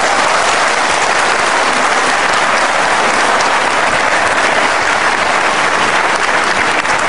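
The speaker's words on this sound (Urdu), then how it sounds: "تالیاں انہوں نے اس کے سوال پہ دیا" Studio audience applause during a Pakistani television interview, dense continuous clapping that stays loud and even throughout, with no voices over it.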